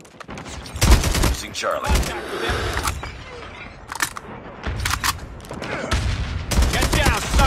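Gunfire in the mobile shooter Call of Duty Mobile, with scattered loud bursts and single shots at irregular intervals, mixed with game announcer voice lines and other match sounds.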